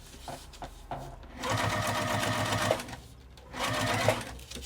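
A sewing machine stitching a makeup zipper bag, running in two close, rapid bursts of steady mechanical needle clatter with short pauses and a few light clicks before and between.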